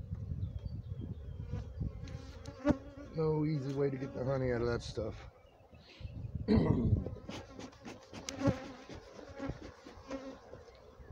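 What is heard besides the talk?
honeybees buzzing around the hive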